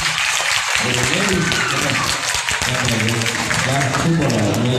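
An audience applauds in a steady, dense wash of clapping that fills the whole stretch, with people talking over it.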